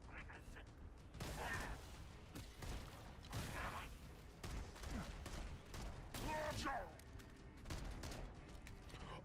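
A semi-automatic pistol in the video game Halo fires repeated single shots in quick bursts, sharp cracks over a busy game soundscape with mechanical clicks.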